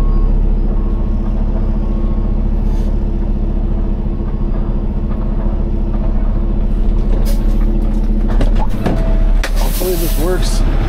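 A heavy truck's outrigger pushes down the broken landing gear of a water filtration trailer. The loud engine drones steadily throughout, and creaks, hisses and metallic groans rise over it toward the end.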